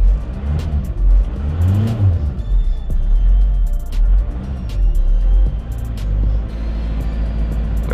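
A VW Transporter van engine idles steadily close by just after starting following an oil service, with a low rumble and a few brief revs rising and falling.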